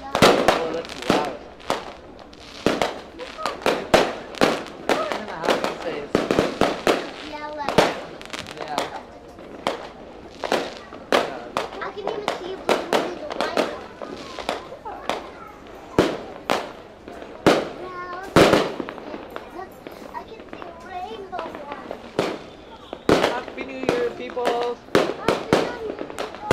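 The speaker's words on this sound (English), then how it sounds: "You see those fireworks?" Fireworks and firecrackers crackle and bang continuously, with sharp pops scattered throughout, while people talk and cheer over the noise.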